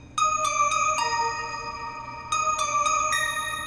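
Layered sparkly synth plucks with harp and the Dopamine and Dream Pluck patches play together in FL Studio. They form a bright, happy melodic phrase of crisp, ringing notes that sound close and fairly loud, with no voices.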